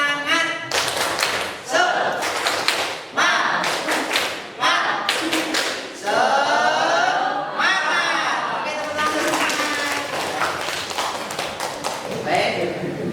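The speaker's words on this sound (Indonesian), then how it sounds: "Tepuk semangat" A school class performs the 'tepuk semangat' clapping chant, rhythmic bursts of group hand claps alternating with shouted chanting voices, loud and close in a classroom.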